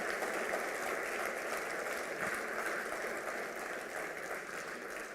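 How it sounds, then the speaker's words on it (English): A conference audience at a fintech summit applauds a keynote speaker: steady, dense clapping from a large crowd, fairly faint and even throughout, with no talk. "I think our keynote speaker deserves a bigger and better round of applause"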